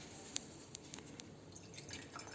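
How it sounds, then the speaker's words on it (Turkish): Water drains from a batch of blue silica gel beads in a small lab preparation, heard as faint, sparse drips and trickles at close range in a quiet room. "Suyunu süzüyoruz."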